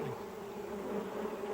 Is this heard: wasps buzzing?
yes